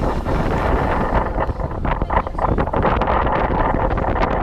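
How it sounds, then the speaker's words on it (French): Strong wind and sea noise roar steadily on a speeding boat crossing open water in Thailand, from Phuket toward Koh Lanta, a dense, continuous rush with gusty buffeting and no voices. "1 heure et demie à passer sur ce bateau avec le bruit du vent, le bruit de la vitesse, le bruit de la mer"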